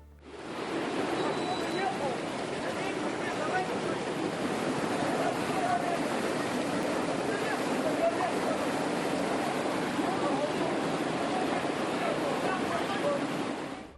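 A burst hot water pipe beneath a parked bus on a cold winter day releases a constant, loud roaring hiss of gushing steam and water that holds at a broad, even level throughout.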